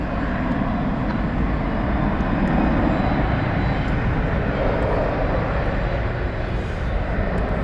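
An Airbus A321 roars steadily on departure at DFW Airport, a broad and loud continuous jet engine rumble that fills the whole stretch without letting up.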